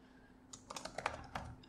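Typing on a computer keyboard while editing a text label in a Java graphical interface, a quiet run of about a dozen quick clicky keystrokes after a brief silence, with no talk.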